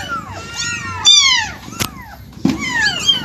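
A pet cat that has just given birth meows repeatedly at close range, three loud drawn-out rising and falling cries with a short sharp sound between them and faint background noise.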